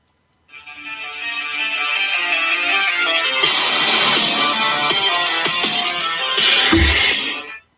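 A song plays as a phone ringtone, a dense, loud musical stretch that swells in and holds steady for several seconds before cutting off, with a low thump near the end.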